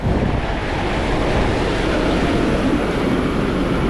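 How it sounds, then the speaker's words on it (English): An air compressor runs steadily, a loud continuous broadband roar with a low rumbling base, unbroken and close for the whole stretch with no talking over it. "So they got the air compressor running."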